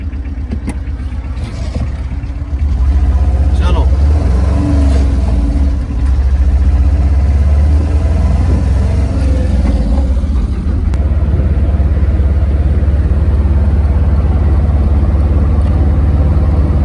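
A car engine drones loudly and steadily while driving, a close low rumble that swells after a quieter opening and then holds for the rest of the stretch.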